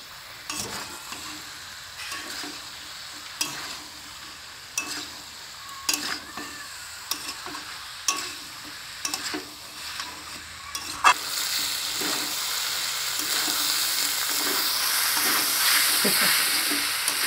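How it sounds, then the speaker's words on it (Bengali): Jackfruit curry frying in a pan while a spoon stirs it, with a steady sizzle under repeated scraping strokes at a near, moderate level, and the frying hiss growing louder and brighter toward the end. "নাড়াবো।"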